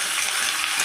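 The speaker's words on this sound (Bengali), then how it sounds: "এবার কেটে রাখা আলুগুলো দিয়ে দেবো তেলের মধ্যে। আলুগুলো আমি একটু লাল করে ভেজে নেব।" Cut potato pieces fry in hot oil with a loud, dense, continuous hiss and crackle, close up and alone.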